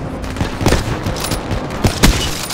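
Gunfire from a shooter video game, landing headshots: several dense, rapid bursts of shots, loud and close, with no talk over them.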